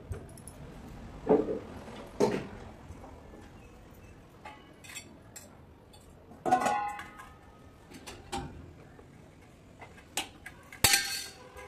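Metal kitchen containers and utensils clink and clatter as they are carried indoors, with scattered, fairly faint knocks and jingles separated by quiet gaps.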